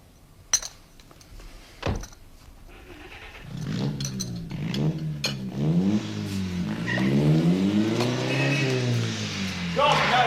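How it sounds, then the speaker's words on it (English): A loud car engine revs with a throaty, sputtering roar and pulls away, building and holding steady as it drives off, after a few clinks and brief knocks at the start. "God knows why Brown finds it necessary to have a car that sounds like 5 dictators all talking at once."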